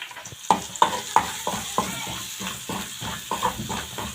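Garlic frying in a pan for yellow lentil soup makes a steady sizzle broken by a series of sharp, close clinks and scrapes from stirring, regularly spaced at moderate loudness.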